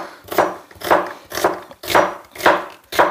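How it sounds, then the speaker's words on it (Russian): A knife chops onion on a board at home for kimchi, with six evenly spaced, crisp chopping strikes in a steady rhythm, close and clear with no talking. "Так, лук будем как резать?"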